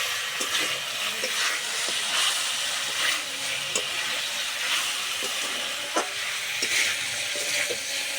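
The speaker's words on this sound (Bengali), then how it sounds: "এই জলটা যতক্ষণ না শুকোচ্ছে ততক্ষণ এইভাবে ভাজতে থাকবো।" Chicken fries in a pan with achari spices as its released water cooks off, giving a loud continuous sizzle and hiss with intermittent clicks and scrapes of stirring.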